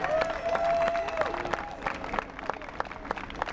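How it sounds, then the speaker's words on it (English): A small outdoor group at an Occupy Philadelphia general assembly gives a short, scattered round of applause, uneven individual claps with some voices murmuring underneath. "give yourselves a round of applause"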